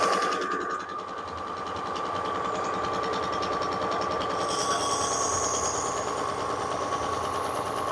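A Work Sharp powered sharpener runs steadily while stropping a skinner knife, giving a continuous motor hum with a constant whine and a rough, textured belt rasp. It is close and moderately loud, with no voices.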